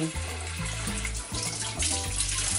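Running tap water splashes over salted eggplant slices as they are rinsed in a kitchen sink, a steady close gush with slight rhythmic changes as the slices move under the stream.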